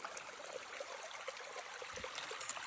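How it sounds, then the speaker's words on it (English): Stream water flows steadily by a riverside campsite, a continuous close babble and trickle with small splashes throughout, no voices. "The stream just keeps going."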